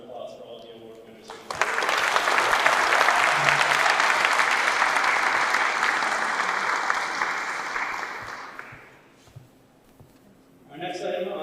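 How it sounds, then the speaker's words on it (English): An audience at an annual Rotary sports awards event gives a final round of applause for the award winners, loud sustained clapping that swells, holds for several seconds, then fades out before a voice begins speaking at the end. "let's have one last round of applause for all the award winners"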